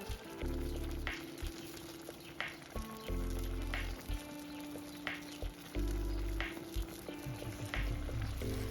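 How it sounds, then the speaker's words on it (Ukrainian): A pan of paella with shrimp and clams simmering, a faint steady bubbling hiss with soft intermittent low thumps in a quiet setting. "Все це виставляється на паею і залишаємо, щоб воно собі кипіло."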